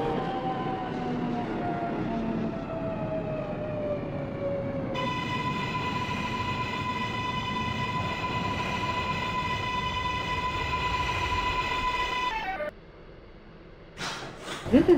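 A Queensbound R188 express subway train on the New York 7 line runs in a train simulator game, with a steady rumbling ride, falling then sustained high motor whine tones, a sudden quiet stretch, and a brief clatter at the end.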